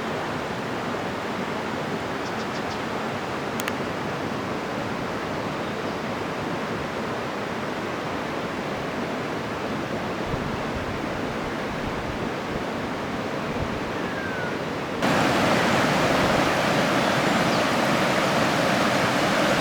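The Rose River flows steadily as a broad, continuous rush of water, close and even throughout, growing brighter and louder for the last few seconds.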